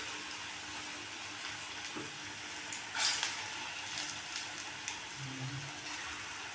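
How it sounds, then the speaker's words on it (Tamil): Urad dal vada batter drops into hot oil and fries with a soft, continuous sizzle, one brief louder splash or crackle in the middle and a few small clinks, quiet and close, with no talk. "இப்போ இந்த போண்டா நம்ம போட்டுக்கலாங்க"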